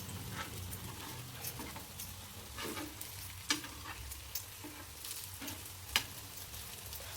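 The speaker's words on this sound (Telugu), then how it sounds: "రెండు వైపులు తిప్పుకుంటూ బాగా ఫ్రై చేసుకోండి." Brinjal slices frying crisp and brown on a tawa, a steady close sizzle with a few sharp pops and crackles, no voices.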